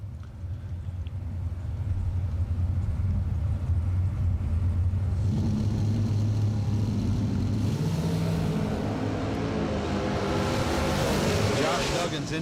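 A bracket racing car with a single carburetor and no supercharger makes its run at a drag strip event, its loud engine roar rising and sustained throughout, with commentary over the top.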